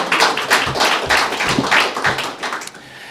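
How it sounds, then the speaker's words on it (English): An audience at a village board candidate forum claps for the candidates, a close, uneven patter of hands that carries on for about three seconds and then tapers off, with no talk over it. "applause for all our candidates."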